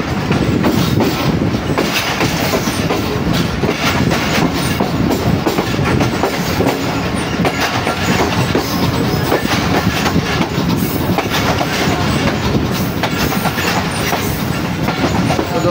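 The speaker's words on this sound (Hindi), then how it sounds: "तो दोस्तों इस वक्त ट्रेन हमारी मेन लाइन ML1 पर ट्रैवल करेगी" Allama Iqbal Express passenger train running on the ML1 main line after leaving a loop line, heard from on board as a steady loud rumble with continuous rhythmic clickety-clack of wheels over rail joints throughout.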